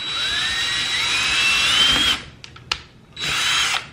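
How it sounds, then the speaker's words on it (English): A power drill drilling a hole in wood whines steadily for about two seconds, stops with a few clicks, then spins up again briefly. Close and loud. "I will put it here between the two paint cans and I will drill a hole"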